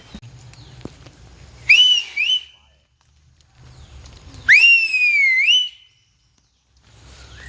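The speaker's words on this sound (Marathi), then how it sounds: "मी शिट्टी वाजवते" A whistle blown in a forest during rain: two loud, rising shrill blasts, the second longer and warbling, set apart by gaps, over soft low rumbling background noise.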